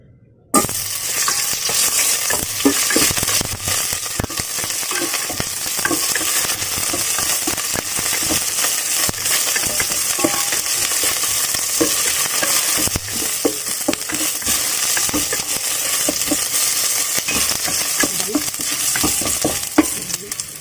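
Ginger frying in a little oil for a Taiwanese dish, a continuous dense sizzle with crackling pops and occasional stirring scrapes, close and loud throughout.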